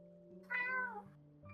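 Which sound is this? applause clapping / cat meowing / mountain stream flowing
cat meowing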